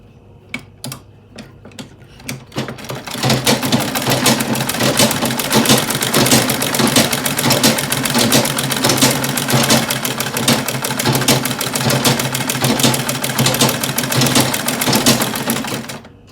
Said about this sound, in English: So let's go ahead and sew these pieces together.